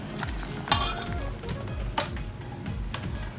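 Lentils simmering in a pot for dal curry are stirred with a spoon, giving a steady rhythm of soft scraping and clinking strokes over a low bubbling sizzle, with one sharper utensil clank partway through.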